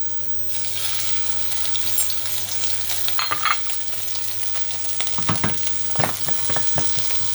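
Salmon fillet frying in a hot pan, a steady loud sizzle with crackling spits and occasional stirring or scraping clatter running throughout.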